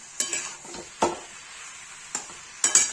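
A spoon stirs a dry potato and pointed gourd sabzi with garam masala and fennel in a pan, four or five separate scraping strokes over a faint sizzle, close and clear.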